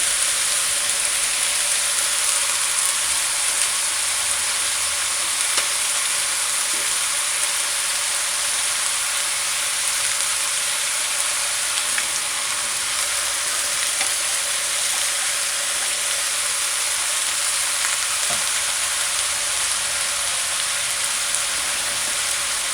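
Cabbage stir-frying in a pan over high heat gives a steady, close, even sizzle with a few faint ticks and pops throughout.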